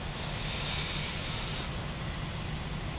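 Steady, broadband roar of twin jet engines on an Airbus A320-200 airliner in Flight Simulator X, heard near Rio de Janeiro. The drone holds at one level throughout, with no voices over it.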